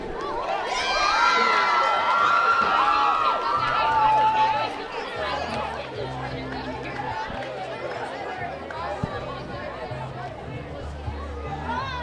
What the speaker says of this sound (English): Let's do a big round of applause to the Grafton High and Marlboro High cheerleaders.